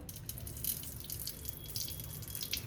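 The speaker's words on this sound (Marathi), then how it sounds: "हे पाणी आता काढून टाकूया." Water drains away after sorghum grain has been rinsed in a home kitchen, heard as a faint, steady trickle with light dripping. No voices are present.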